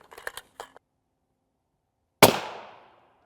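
A single sharp rifle shot from a 150 grain API round, 7.62x54R resized to .308, fired at an NIJ Level IV armor plate, loud and close with a decaying ring, after a few brief clicks and handling noises.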